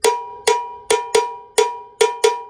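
A cowbell plays the fusion mambo bell pattern, seven bright metallic strikes in an uneven syncopated rhythm, close and alone.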